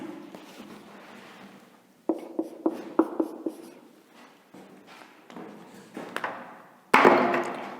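A teacher writes on a classroom board in short bursts of scratchy, tapping strokes, with clustered knocks and scrapes separated by brief pauses and a louder final stroke.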